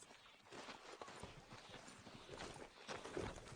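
Horse hooves clip-clop at a steady walking pace in Red Dead Redemption 2, moderately close and set against a busy game ambience, with no talking over them.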